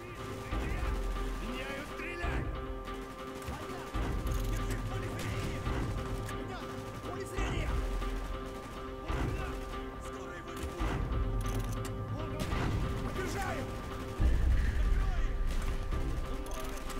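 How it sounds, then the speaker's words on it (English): Gunfire in Call of Duty: Black Ops, with repeated bursts of automatic shots and heavy impacts forming a dense, continuous battle layer, loud and close, while voices talk over it. "Gunfire's drawing attention."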